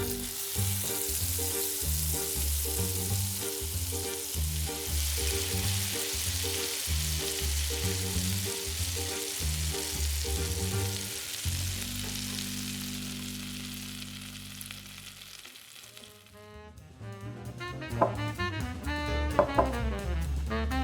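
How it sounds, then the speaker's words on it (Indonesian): Fish balls sizzle steadily in hot frying oil, a loud, continuous crackle that runs under rhythmic background music before giving way to the music alone near the end. "Goreng bola ikan."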